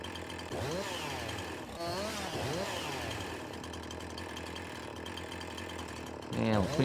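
Chainsaw cutting logs in the Farming Simulator 19 game, engine revving repeatedly in rising and falling sweeps over a constant idle, several bursts close and loud, with a sharper rev at the end.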